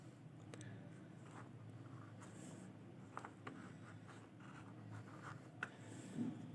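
A pen writes a number on paper in a quiet room, with soft, faint scratching strokes and small taps scattered across several seconds.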